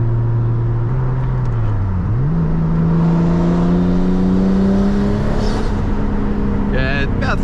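A Nissan Skyline R32 GTS-T's engine climbs through the revs, drops at a gear change, then pulls steadily higher while driving, with wind noise throughout and a short whine near the end.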